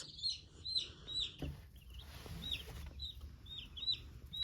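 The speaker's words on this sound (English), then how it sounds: "this is one of our little meat birds" Young meat-bird chicks on a farm give repeated high, thin peeping cheeps, close and clear over a low background rumble, with no talking.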